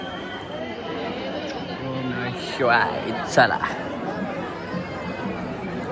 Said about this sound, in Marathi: लय गर्दी आहे, मरणाची गर्दी.